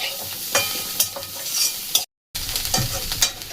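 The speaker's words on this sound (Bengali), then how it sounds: "এই পোস্তটা দিয়ে আবার 1 মিনিট একটু ভেজে নিতে হবে" Whole poppy seeds are stirred and fried in a pan, with scraping stir strokes over a steady sizzle and a brief silent break midway.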